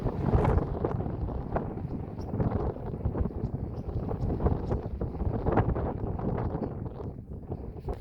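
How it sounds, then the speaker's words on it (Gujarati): Strong wind blows hard across a cumin field against the microphone in loud, uneven gusts that rumble and roar throughout. "ભૂર પવન વાય છે"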